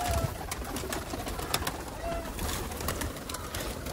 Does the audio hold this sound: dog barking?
no